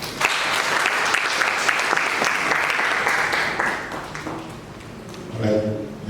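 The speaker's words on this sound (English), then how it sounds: "Let's clap for her, please." An audience at an International Day of the Girl Child event claps together for about four seconds, then the applause fades and a voice speaks, with a brief swell of noise after.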